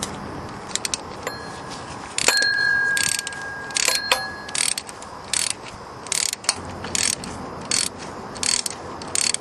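A ratchet wrench loosening long alternator bolts on a Nissan Maxima, sharp clicking bursts in uneven runs with short pauses between, close and clear with metallic ringing touches and no speech.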